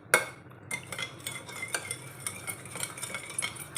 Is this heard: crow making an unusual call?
no